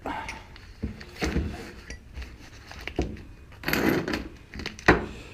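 A punch kit case for removing cam bearings is opened, giving a string of close plastic clicks, knocks and faint metallic clinks as the lid and contents shift.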